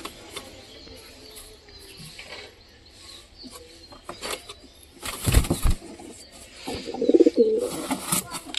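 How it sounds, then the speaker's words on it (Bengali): A pair of pigeons at home cooing softly with scattered wing flutters, then a louder burst of flapping and rustling followed by throaty coos, close by and without speech. "দেখো দেখলে তো পায়রাটা কত সুন্দর।"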